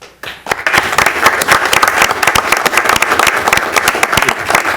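Audience at a Horsham Township council meeting applauding an honoree for his community service, a dense burst of many hands clapping that starts abruptly and holds steady and fairly loud throughout.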